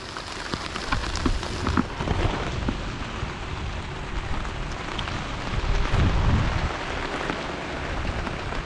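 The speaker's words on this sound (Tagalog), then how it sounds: "Ito yan, lakas ng ulan." Heavy rain pours down on a plantation in a dense, continuous roar. Low rumbling swells come and go beneath it, with no talk over the downpour.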